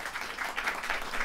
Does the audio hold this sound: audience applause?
yes